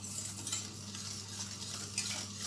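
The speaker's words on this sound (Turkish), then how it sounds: "Ve kaynayana kadar karıştırarak sosumuzu pişiriyoruz." Chocolate sauce being stirred as it cooks in a pot for a brownie-style moist cake, a steady soft scraping and gentle bubbling with a low constant hum behind it, no voices.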